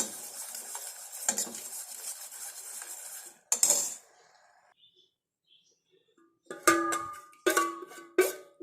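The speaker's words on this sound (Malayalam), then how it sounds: "നമുക്ക് ഇനി വേറെ ഒരു പാത്രത്തിലേക്ക് അങ്ങ് മാറ്റി കൊടുക്കാം" A metal spoon scrapes and clinks against a pot while a homemade rice-water hair dye mixture is moved into another vessel, with bursts of stirring and clanking separated by a quiet pause.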